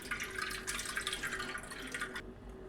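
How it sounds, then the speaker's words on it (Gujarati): Water drains off freshly washed poha in a kitchen, a close, continuous splashing trickle with uneven drips and gurgles that stops abruptly near the end, with no voices. "આ રીતે બધું પાણી આપણે કાઢી નાખવાનું।"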